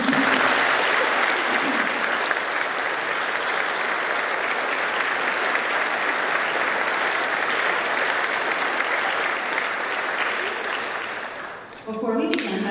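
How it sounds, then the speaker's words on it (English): An audience applauds United States Army Medal of Honor recipients at a ceremony held at Duxbury Public Schools, a dense, steady burst of clapping that holds strong for about eleven seconds before fading out, after which a voice begins to speak. "Clap for them."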